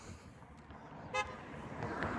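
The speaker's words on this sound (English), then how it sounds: "some guy just honked at me" A passing car gives one short honk on its horn, brief and moderately distant, over faint roadway hum at night.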